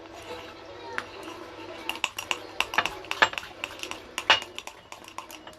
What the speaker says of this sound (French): Attendez que je mélange bien.